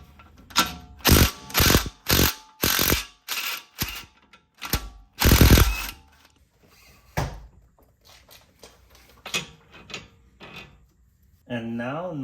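Ratchet wrench loosening 13 mm bolts on a BMW i3 strut assembly, loud bursts of rapid clicking in irregular runs, followed by quieter clicks and rustling near the end.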